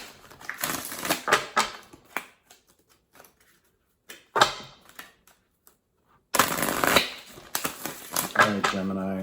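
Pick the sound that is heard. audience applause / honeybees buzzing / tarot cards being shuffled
tarot cards being shuffled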